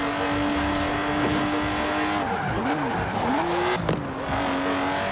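A Lotus sports car in Forza Horizon 4 races hard, its engine tone holding steady, then rising and falling through shifts and cornering with tire squeal, one sharp transient near the end.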